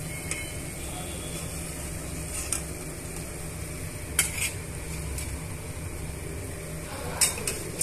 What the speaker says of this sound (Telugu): ఇలా మనం టర్న్ చేసుకుంటూ వేయించుకోవాలి.